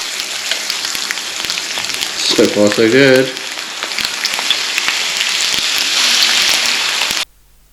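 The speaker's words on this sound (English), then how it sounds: "While the steak is frying," A steak sizzles and crackles steadily in hot extra virgin olive oil on a cast iron grill pan, a dense, close, rain-like hiss that runs throughout while a person briefly speaks over it.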